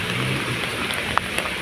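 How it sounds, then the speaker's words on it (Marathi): Steady rain falling outdoors in a small village garden setting, a continuous even wash of drops with a couple of brief sharper patters, no voices. "तर पाऊस आहे, पावसामध्ये हे करते मी."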